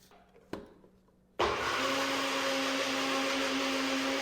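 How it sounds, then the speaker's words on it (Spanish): A food processor blends Caesar dressing made with Dijon mustard, starting abruptly after a faint tap and a quiet stretch, then holding a loud, steady motor whir close by until the end. "Y ahora sí, vamos a procesar nuestro aderezo."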